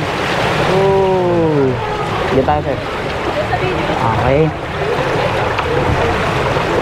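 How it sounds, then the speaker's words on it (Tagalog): An e-bike pushes through deep floodwater, with a steady rushing wash of waves and water noise around it and a voice talking briefly over it. "Talagang niraragasan natin ngayon yung tubig baha o."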